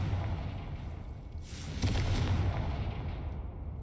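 A Confringo spell blast in the video game Hogwarts Legacy bursts out as a deep, rumbling boom with a bright crackling edge in the middle of a continuous low roar.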